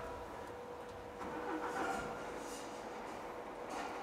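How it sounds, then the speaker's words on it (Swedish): A truck passes at a moderate distance, a low steady rumble that swells briefly in the middle and then eases, with faint background noise and no talk. "Det var lastbilen!"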